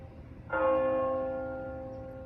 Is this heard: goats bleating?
no